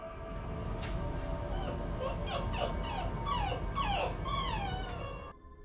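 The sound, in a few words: frightened dog whimpering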